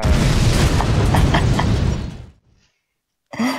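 A bomb detonates in a bomb-defusal video game with a loud, full-bodied boom that rolls on for about two seconds, then cuts to near silence before a short burst of new sound at the end.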